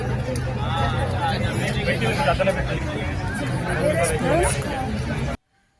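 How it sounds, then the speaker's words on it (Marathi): Crowd hubbub at a vintage car exhibition: a dense, steady babble of many overlapping voices fills the space for about five seconds, loud and continuous, then cuts off abruptly. "गर्दी तर एवढी"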